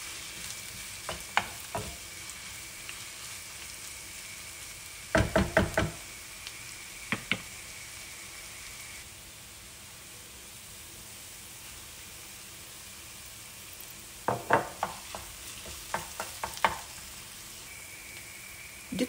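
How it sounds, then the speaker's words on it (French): Bell peppers fry in a pan for a stewed bulgur dish, making a constant background sizzle broken by bursts of stirring clatter and knocks, one cluster early and another later. "نخليها تقلى 5 دقائق"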